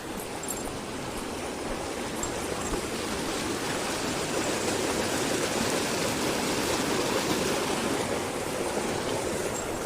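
A small creek flows continuously nearby, a steady, even broadband rush and babble of running water with no voices over it.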